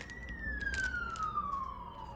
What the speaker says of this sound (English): Apologies for the siren you're about to hear go past